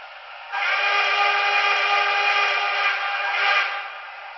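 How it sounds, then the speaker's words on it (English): A Broadway Limited model of the Norfolk & Western 2-8-8-2 Y6b steam locomotive sounds one sustained, steady steam whistle blast lasting about four seconds, loud and close, with a slight swell near the end and no talking. "listen to the whistle"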